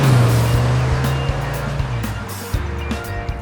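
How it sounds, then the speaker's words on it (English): A 2025 MINI Cooper JCW Convertible engine drones loudly with exhaust rumble, the pitch shifting as it revs and changes gear, with road noise throughout. "some additional engine and exhaust noises join the party."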